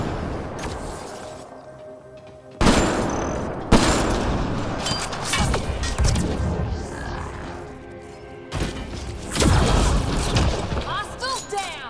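Gunfire in the sci-fi shooter Mass Effect Andromeda, bursts of rapid shots and booms under a busy battle mix, with voices calling out between volleys.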